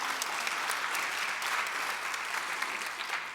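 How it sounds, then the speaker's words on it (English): A crowd claps steadily, a dense patter of applause from an audience filling the room without letup. "So can we give Vice Chancellor a round of applause?"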